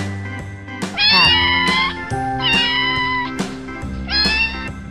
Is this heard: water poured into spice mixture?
no